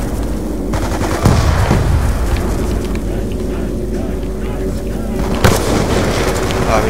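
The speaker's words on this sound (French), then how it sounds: "Ça m'a envoyé une grenade, ok." A grenade explodes in Black Ops 2 Zombies amid continuous gunfire and game noise, with sharp loud bursts near 1.3 and 5.5 seconds standing out over a busy, dense background.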